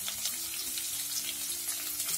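Onion, carrot and green chilli sautéing in a pan for vermicelli upma, a steady close sizzle with a soft hiss and faint stirring scrapes, no talking.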